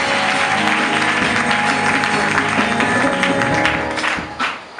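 A church congregation at a Sunday convention service in Abidjan claps together in steady, sustained applause, loud and close, over a faint musical backdrop, tapering near the end.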